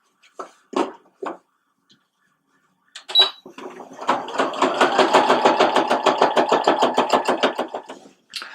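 Sewing machine runs a row of stitches along a fold on a button-down shirt. A few short clicks come first, then a loud, close burst of fast, rhythmic needle strokes that lasts several seconds and stops.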